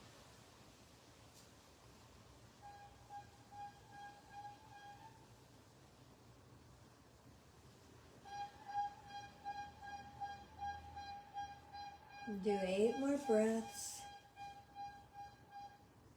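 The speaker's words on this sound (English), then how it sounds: "that little honking is someone going by on a bike, and that person is selling baking goods" A horn on a passing bike selling baked goods honks in short repeated bursts, faint and distant at first, with a steady tone and a louder honking flourish near the end, while a calm voice speaks.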